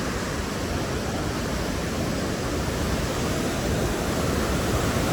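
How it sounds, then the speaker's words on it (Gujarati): A rushing mountain river in the Valley of Flowers, Uttarakhand, gives off a loud, steady roar of churning water that fills the whole stretch without a break. "આ નદી આવી."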